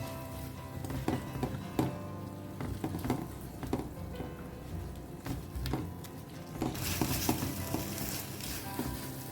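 Goan prawn balchao masala sizzles in a pan while being stirred, a close crackling fry broken by repeated scraping stir strokes, with a louder hissing burst near the end and no talking.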